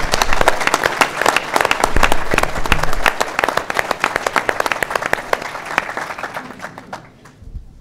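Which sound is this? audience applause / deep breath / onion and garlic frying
audience applause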